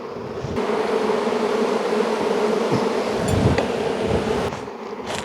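A honeybee colony drones with a dense, steady hum throughout a hive inspection, a loud close-up swarm of wings with brief faint knocks near the middle.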